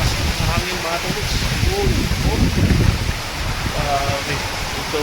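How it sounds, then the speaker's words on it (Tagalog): A sudden heavy downpour driven by strong wind, heard while sheltering under a house roof in Ifugao; a steady broadband roar of rain and gusts fills the whole clip, with voices talking over it. "Biglang bumuhos po yung ulan no, napakalakas hangin."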